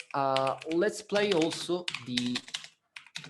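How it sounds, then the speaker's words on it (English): Mechanical computer keyboard typing sounds as sharp, rapid clicks under someone speaking steadily in a conference talk. "I'm sorry for the background noise, but I really love my mechanical keyboard."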